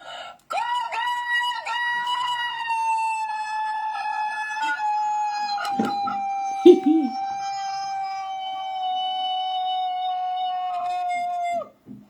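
A rooster kept and fed by its owner lets out one long, loud sustained crow lasting about eleven seconds, with a brief rough squawk near the middle; no talking.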